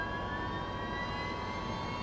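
A steady jet engine spool-up in Microsoft Flight Simulator, engine 2 of a MilTech V-22 Osprey tiltrotor starting, a continuous broadband roar with thin high whining tones, even and loud from start to finish with no talk.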